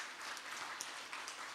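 Fairly quiet applause from a church congregation during a Sunday worship service, a soft continuous patter of many hands clapping, somewhat distant in the room.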